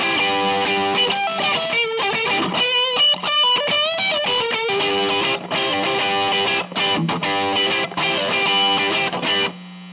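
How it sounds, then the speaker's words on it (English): A Cort G300 Glam electric guitar plays through distortion in loud, sustained, saturated chords and quick riffs with brief pauses, close and alone without talking. "let's put the distortion on there."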